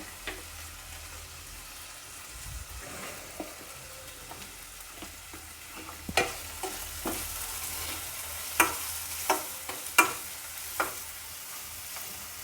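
Chopped tomato being sautéed in a pan for a bitter gourd curry: a soft, steady sizzle with scattered scrapes and taps of a spatula stirring, growing busier and louder in the second half.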